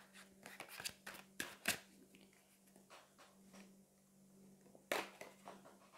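A tarot card drawn and shuffled from a deck during a reading, giving several soft papery flicks and slaps scattered across the moment, fairly close, with a low steady hum underneath.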